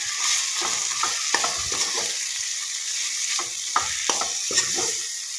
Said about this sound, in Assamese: এইটো ধুনীয়াকৈ খুব লৰাই থাকিব